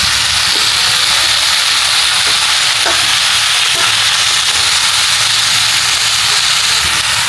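Mixed vegetables including broccoli, carrots, bottle gourd and sponge gourd sizzle and fry steadily in a pan, a constant loud hiss with a few faint clicks of stirring, no voices.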